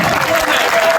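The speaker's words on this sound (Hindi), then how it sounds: "एक बार जोरदार तालियां हो" A poetry-recital audience in Birsinghpur breaks into a brief burst of dense, loud applause that fills the room, with a voice speaking over it.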